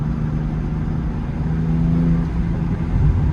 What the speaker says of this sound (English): So driving the X3M.